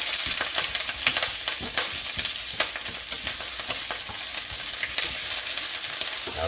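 Katuk and basil greens frying in coconut oil in a pan, giving a steady, close sizzle with dense crackling spatter and light stirring throughout, no voices.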